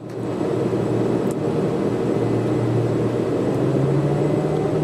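Propeller engines of a Piaggio P.180 Avanti II twin-turboprop climbing after takeoff in a flight simulator game, a steady loud drone with a low hum that rises slightly in pitch, continuous and without speech.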